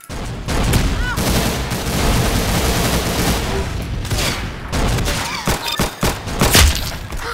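Gunfire from the Roblox shooter Arsenal comes as dense, loud bursts of rapid shots, then a few sharp separate booms near the end.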